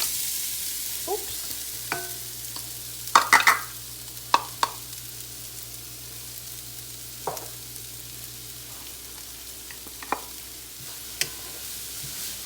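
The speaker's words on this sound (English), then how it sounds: "Give it a little stir and just leave it and let it cook off" A blended sauce cooks in about two tablespoons of oil, giving a constant low sizzle with scattered scrapes and clinks of stirring, a cluster of louder knocks early on, then mostly a quiet simmer.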